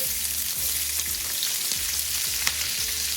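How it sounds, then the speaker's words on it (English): Onion rings frying in leftover hamburger grease in a pan, giving a steady, loud, hissing sizzle with small crackles throughout. "we're going to use our grease to fry our onions in"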